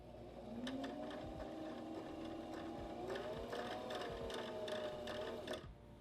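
A sewing machine driven by a foot pedal winds thread onto a bobbin, giving a steady, close motor whine that rises slightly in pitch, with a rapid mechanical ticking throughout.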